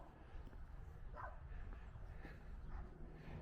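Dog barking in a few short, fairly faint yaps and yips along a quiet rural roadside in Buangor, Victoria, Australia, with low background ambience between the barks.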